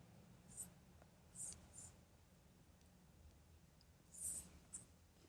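A pen writing numbers on paper, soft scratchy strokes in several short bursts separated by quiet pauses, very faint and close.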